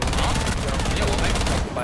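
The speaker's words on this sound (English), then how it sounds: "I was shooting through it and he just shot right back" Rapid automatic gunfire rattles in a dense, loud burst during a round of the shooter game Rainbow Six Siege, a fast exchange of shots that cuts off abruptly near the end.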